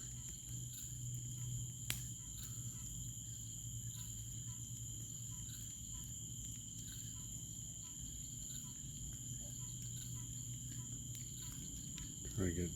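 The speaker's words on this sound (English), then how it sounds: "Frogs everywhere." Frogs calling at night around a homestead, a dense, steady chorus of chirps and trills that fills the whole stretch at an even level, with a brief louder burst near the end.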